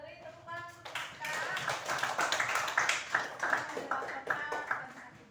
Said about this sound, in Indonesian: Beri tepukan untuk kita